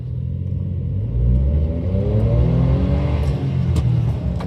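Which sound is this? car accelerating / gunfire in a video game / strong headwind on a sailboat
car accelerating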